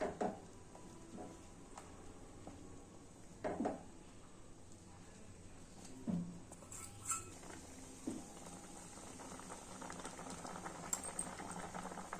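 Semiya payasam made with thick milk simmers in a pot, giving a steady low bubbling patter with occasional louder pops and utensil clinks, close and alone without talk.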